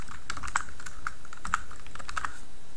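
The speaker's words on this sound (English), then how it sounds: "And in this script, you're going to type in game" Quick, close keystrokes on a computer keyboard while script code is entered in Roblox Studio, a light irregular patter of taps with no voices.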